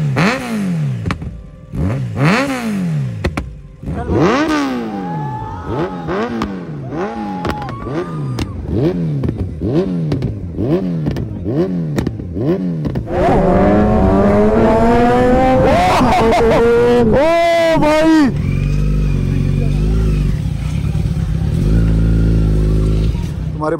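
Motorcycles ridden fast on snow during a snowy bike trip, engines revving up and down in repeated sweeping bursts, then a louder, higher whine of acceleration close by before a rumbling idle-like roar at the end.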